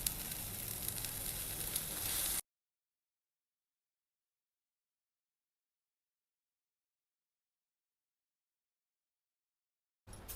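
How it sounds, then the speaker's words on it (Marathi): Salted water in a pot for rava doughnuts bubbles with a steady hiss for a couple of seconds, then drops to silence for a long stretch before a short burst of bubbling returns at the end. "पाण्याला उकळी आलेली आहे छान।"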